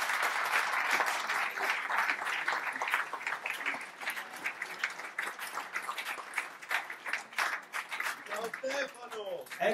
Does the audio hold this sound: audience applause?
yes